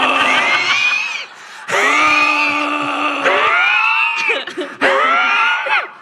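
A woman who is holding an oxygen tank and has emphysema screams in an entryway while trying to catch her dog Bo. Three or four long, loud, strained screams come in close succession with brief breaks between them.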